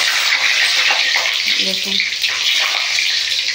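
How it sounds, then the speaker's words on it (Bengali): A whole tomato rinsed under a steady stream of running water from a tap, a continuous close splashing hiss with a voice speaking briefly over it in a home kitchen. "টমেটোটা একটু ধুয়ে নেব"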